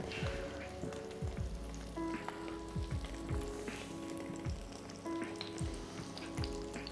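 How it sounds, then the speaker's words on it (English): Salmon fillets sizzle in a frying pan, a steady close crackle and hiss that runs throughout, with quiet clinks and rhythmic low knocks beneath. "You can see that salmon sizzling away."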